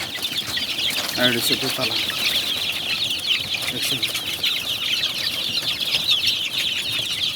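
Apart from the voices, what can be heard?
chickens clucking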